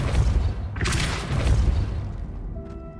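A Depulso spell cast in Hogwarts Legacy gives a deep, rumbling magical boom that swells with a bright whoosh, sustained and loud across the moment and fading at the end.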